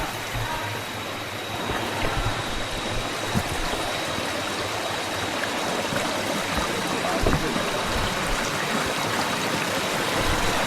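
A river stream near Kinabuan Falls rushes steadily over rocky bedrock, a loud, continuous broadband wash of flowing water that stays close and even for the whole stretch.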